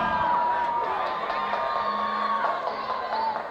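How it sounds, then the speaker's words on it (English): A stadium crowd at a Texas high school football game cheers and whoops for the University High School Trojan marching band, a steady, loud roar of voices with a few distinct shouts rising out of it. "another round of applause for the mighty Trojan marching machine"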